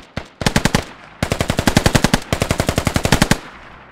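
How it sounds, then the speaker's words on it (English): Loud, close machine-gun fire in a military video game, three long rapid automatic bursts of evenly spaced shots separated by short pauses. "They're just shooting to shoot"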